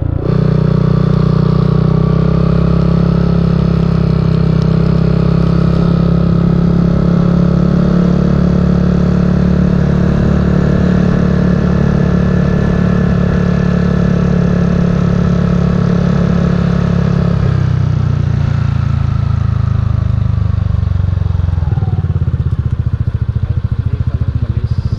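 A vehicle engine runs steadily while being driven, a loud low droning hum with mid-range clatter that shifts pitch partway through as the speed changes, with no talk.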